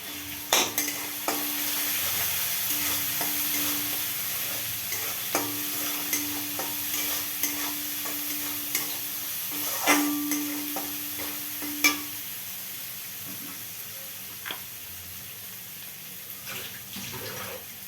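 Fish curry masala with Kashmiri chili powder being sautéed and stirred in a pan for a doi katla dish, a steady close sizzle with repeated sharp scrapes and clinks of a spatula, no talking.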